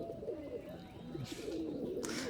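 Azan bit pigeons cooing in a coop: soft, low, warbling coos repeating close by, with two brief bursts of rustling or wing flutter and no talk.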